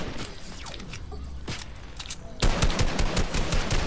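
Gunfire in the Fortnite video game, a few sharp shots early then a dense burst of rapid firing in the second half, fairly loud against a busy game background.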